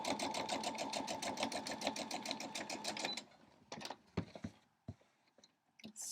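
Sewing machine stitching quilt fabric, a rapid, steady mechanical run of stitches for about three seconds, then stopping, followed by sparse handling clicks and rustles close by.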